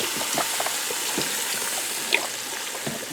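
Broth is poured into a Ninja Foodi pressure cooker, a soft, continuous liquid trickle and splash heard close up with a small clink partway through.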